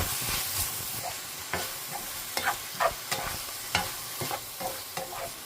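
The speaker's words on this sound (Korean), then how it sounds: "양파 먼저 넣어줍니다. 다 넣어서 자, 이렇게 볶아줍니다." Onion stir-fried with eggplant and pork in a pan, a steady sizzle broken by repeated scraping clatters of the spatula in an irregular rhythm, close and fairly loud, with no talking.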